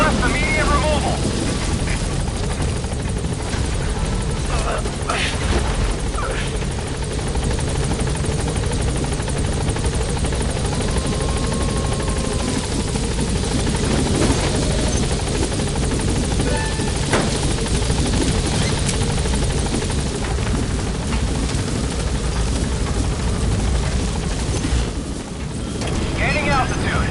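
Steady, loud rotor and engine roar from the Pequod helicopter in the Metal Gear Solid V game, holding constant with a windy wash throughout while voices talk over it.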